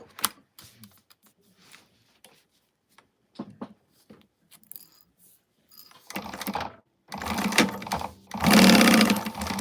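Short bursts of a sewing machine stitching fabric for a sling, quiet at first, then louder and faster runs near the end, close and without speech.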